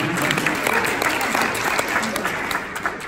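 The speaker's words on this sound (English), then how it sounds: "so a round of applause for all of them" An audience at an awards ceremony in Dublin claps steadily throughout, a dense, continuous wash of applause with some voices faintly mixed in beneath it.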